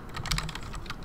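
Quick, light keystrokes on a computer keyboard as an equation is typed into a software field. The taps come close together in a brief, soft run.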